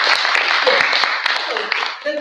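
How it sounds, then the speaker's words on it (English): An event audience gives a round of applause, close, busy clapping with voices mixed in throughout. "I think you still deserve an applause for the organization."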